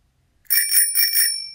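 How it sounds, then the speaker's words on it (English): A bicycle bell rings out several quick bright dings in a row after a moment of silence, clear and close. "She sees a woman ringing the bell on her bike."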